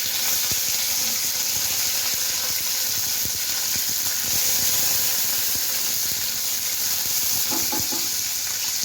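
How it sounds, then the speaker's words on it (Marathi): Mustard seeds and curry leaves sizzling in hot oil, a loud continuous fizzing hiss with crackles and pops throughout and light stirring scrapes, no talking. "राई टाकलेली आहे आणि त्याच्यामध्ये आपण हा कढीपत्ता टाकून देऊ."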